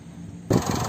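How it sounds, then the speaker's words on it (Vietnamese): Diesel engine of a 2018 Mitsubishi Triton SX pickup idling, starting faintly and then jumping to a louder, steady rumble partway through, heard close with no talk. "đây là tiếng động cơ đang hoạt động"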